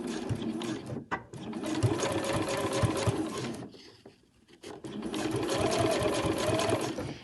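A sewing machine back stitches braid trim onto a pom-pom cushion cover, running in a steady loud mechanical whir that pauses briefly near the middle and then resumes.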